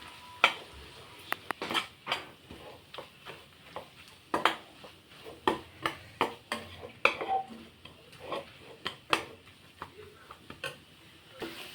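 Turmeric and coriander powder being stirred into a masala for chicken roast, with repeated scraping spoon strokes against the pan in a steady rhythm over a light sizzle, close and moderately loud, no talking.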